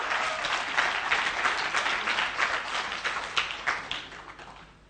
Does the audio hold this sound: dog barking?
no